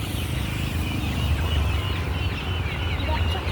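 Kadaknath chickens cluck and squawk amid a busy, noisy Sunday outdoor market in Bhadradri Kothagudem, Telangana, with a constant crowd murmur and chatter underneath.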